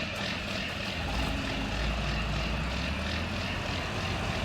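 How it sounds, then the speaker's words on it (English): A New Holland tractor idling in Farming Simulator 19, its engine a steady, dense mechanical drone with a low rumble, continuous and unchanging, with no talk over it. "Leave the engine running because we are going to be using it."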